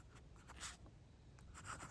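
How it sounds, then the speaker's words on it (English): An Indus Hunk fountain pen nib scratches lightly across paper in a few short, faint strokes, close up and quiet with no talk. "This pen glides on paper."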